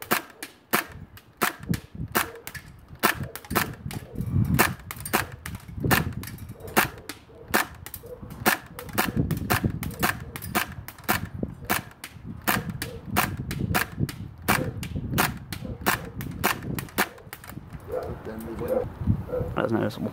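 Airsoft Kriss Vector guns firing BBs at an Acer computer, rapid sharp pops in quick bursts and a steady stream, close and loud, with voices talking throughout and some rustling between shots.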